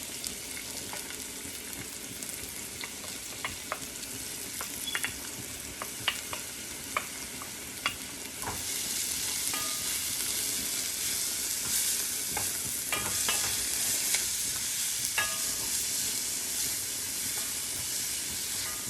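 Vegetables and hot peppers fry in oil for Belizean panades, with a steady close sizzle that swells into a louder, hissing roar partway through, broken by scattered crackles and light stirring clicks, without talk.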